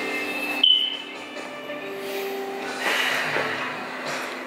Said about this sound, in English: Somebody tell him to replace the batteries in the fire alarm.